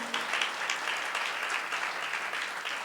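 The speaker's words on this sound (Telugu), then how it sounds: "కొట్టో గట్టిగా చప్పట్లు." A church congregation at a Good Friday service claps loudly together, a dense continuous burst of applause sustained for a few seconds with no voices on top.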